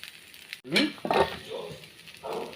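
Jowar dosa batter on a hot pan sizzles and crackles as oil is drizzled over it, with a soft, steady frying hiss and a few light scraping touches close by.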